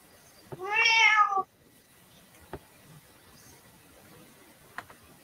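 A single drawn-out meow, loud and close, followed by quiet ambient noise with a few faint clicks.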